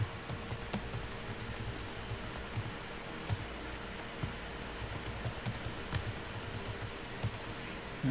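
An administrator ID and password are typed on a computer keyboard, a quiet, steady run of small close key clicks with a few slightly sharper taps.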